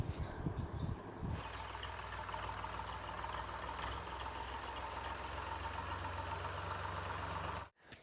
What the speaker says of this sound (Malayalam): അപ്പോഴാണ് കേട്ടോ പൂട്ടാൻ വേണ്ടി ട്രാക്ടർ വന്നത്.